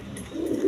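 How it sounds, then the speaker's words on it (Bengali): Pigeons at a farm stocked with eggs and chicks give a soft, low coo, brief and fairly close, with no talk over it. "ডিম বাচ্চা সহ প্রচুর পরিমাণে কবুতর আছে"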